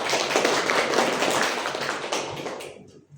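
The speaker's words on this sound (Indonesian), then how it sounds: "tepuk tangan dulu untuk Syahira" Classroom applause during a microteaching lesson, a dense burst of many hands clapping close by for several seconds before tapering off at the end.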